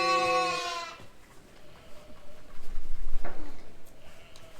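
Lambs bleating on a farm around bottle feeding time, one clear wavering bleat up close at the start, then quieter shuffling and handling noises with a faint second call.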